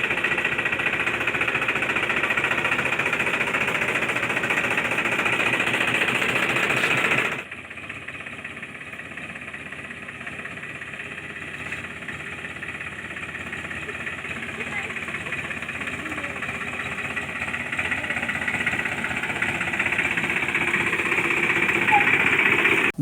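A mini tractor engine chugs steadily while driving, a dense mechanical rattle that loudens from the start, drops abruptly after about seven seconds, then slowly builds again, with talking over it.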